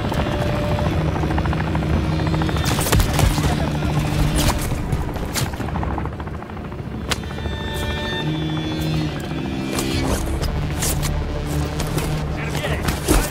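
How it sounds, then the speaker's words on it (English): A helicopter in the Modern Warfare 3 video game thumps loudly and steadily throughout, with gunfire bursts and impacts layered over it and voices talking at times. "That's a helo."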